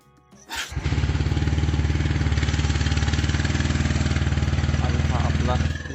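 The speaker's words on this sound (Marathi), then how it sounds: "तर पहिल्यांदा आपण first start of the day करूया." A TVS Apache motorcycle engine cranks and catches after a short quiet moment, then settles into a loud, close, steady idle with an even, rapid thumping pulse.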